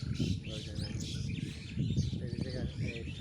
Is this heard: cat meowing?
no